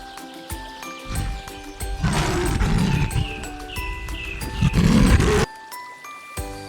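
A lion roars over lively jingling background music, loud growling bursts rising twice in the middle of the stretch with no talk.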